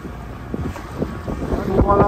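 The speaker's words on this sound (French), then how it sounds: "ça rafale bien, là." Strong wind gusts hit a boat at a bay entrance in the Greek Sporades. Rough, rumbling wind buffets the microphone unevenly and builds louder toward the end, with faint hull and water noise beneath.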